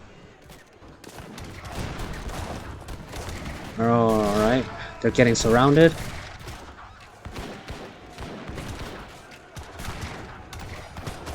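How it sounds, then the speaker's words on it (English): Cannon and musket volleys from a strategy video game battle where heavy cannons duel enemy cannons, with a loud burst of layered firing mid-clip over ongoing battle noise, while a commentator talks throughout. "the heavy cannons are sniping the cannons"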